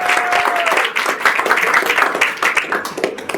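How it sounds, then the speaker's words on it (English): Dinner guests applaud at a radio station's hall of fame induction dinner: a dense, loud wash of clapping from a full room that holds steady throughout, with no speech. "You can clap that."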